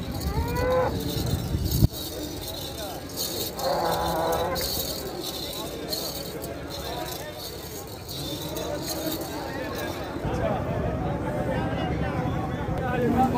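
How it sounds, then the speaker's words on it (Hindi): Buffaloes moo at the Khanna livestock market, loud, drawn-out calls from nearby animals under continuous voices and market bustle. "बड़े कद काट की भैंस है हथनी जैसी"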